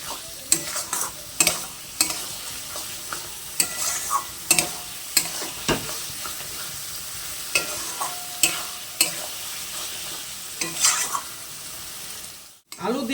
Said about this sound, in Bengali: এই আলুগুলো দিয়ে ভালো করে কষে নেব।